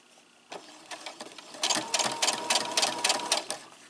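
A sewing machine stitches fabric down in short bursts of rapid mechanical clatter, starting in brief runs and then running faster and louder, close by.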